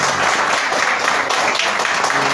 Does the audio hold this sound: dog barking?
no